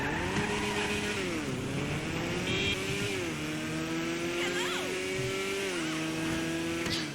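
A BF Weevil, a VW Beetle-style car in GTA 5, drives along with its engine droning and revving through gear changes, the pitch rising and falling, with a brief tire squeal near the end.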